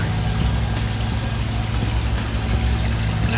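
Natural spring water flows steadily at Kidney Springs, a continuous close pouring and trickling over a low background hum, with no talking.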